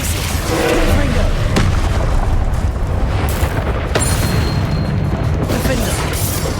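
Repeated booming spell blasts from Confringo in the Hogwarts Legacy game, loud and dense, with heavy low rumble and sharp thuds near 1.6 and 3.9 seconds over continuous combat noise, while a voice talks throughout.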